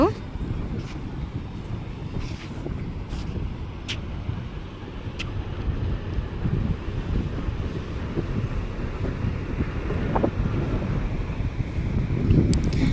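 Sea waves at Tajpur beach, a broad steady surf wash mixed with heavy wind buffeting the microphone, continuous and fairly loud, with faint voices in the background.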